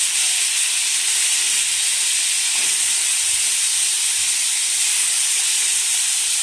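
Food browns in hot cooking oil, producing a loud, continuous, dense frying hiss that stays steady and close throughout with no breaks.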